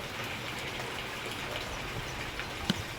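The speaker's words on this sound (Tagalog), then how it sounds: "ilang days na po ang ulan dito na walang tigil" Steady hiss of rain falling without pause, a continuous wash of noise with one brief louder knock near the end.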